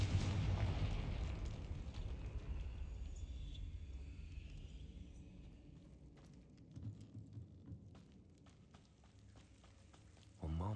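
A Confringo blasting spell explodes in a Wizarding World video game, opening with a loud booming blast that rolls into a long rumbling decay with scattered crackles, before a fresh burst cuts in at the very end.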